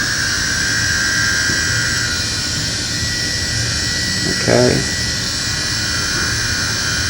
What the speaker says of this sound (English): if I turn on the drone, it should turn on the gimbal.